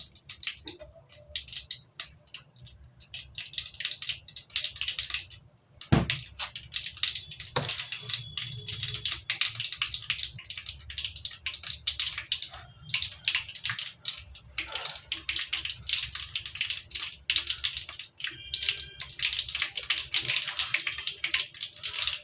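Mustard seeds splutter and pop in hot oil for a brinjal curry, a dense crackle of close, quick sizzling bursts running throughout.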